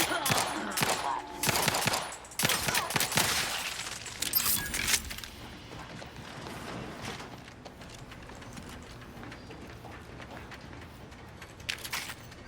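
Rapid bursts of gunfire from a weapon in the video game The Outer Worlds 2, loud volleys and shattering in the first few seconds, then quieter game ambience with a brief final burst near the end.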